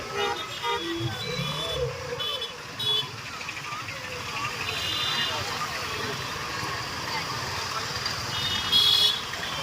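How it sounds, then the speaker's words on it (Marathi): Busy traffic on a town street in Metpally, Telangana, near a market, with repeated car horn toots over a steady engine rumble, while people talk nearby. "ट्रॅफिक बघ किती आहे भाई, फुल ट्रॅफिक ऑन आहे"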